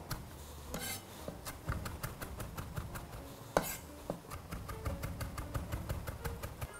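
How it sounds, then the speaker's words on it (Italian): Rapid knife chopping of parsley on a cutting board, a steady series of sharp taps close up with occasional louder knocks, no voices. "Vado a tritare del prezzemolo."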